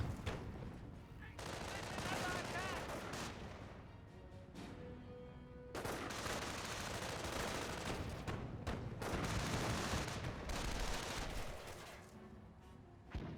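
Company of Heroes battle audio carries dense, continuous gunfire and rattling bursts with booming impacts, swelling and dropping in loudness. A commentator's voice is partly heard beneath the battle din.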